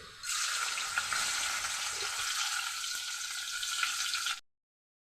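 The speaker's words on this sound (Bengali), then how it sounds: "কড়াতে কিছুটা সাদা তেল দিয়ে দিলাম, তেলটা গরম হয়ে গেছে। এখন পনিরগুলি আমি দিয়ে দিচ্ছি।" Paneer pieces frying in hot white oil in a kadai, producing a loud, continuous close sizzle that holds steady for about four seconds before cutting off abruptly into silence.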